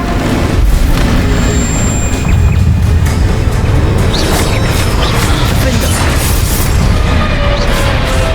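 A Bombarda explosion spell bursts during a hectic Hogwarts Legacy battle, loud booming blasts and crashes landing amid dense, continuous combat noise with shouted voices.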